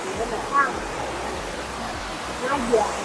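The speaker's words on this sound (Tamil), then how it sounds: "ஃபால்ஸ் விழுகிற சவுண்டு மட்டும் கேட்குது பயங்கரமாக." A waterfall in a Kerala forest gives a constant broad rushing roar, and faint voices come through beneath the steady wash of falling water.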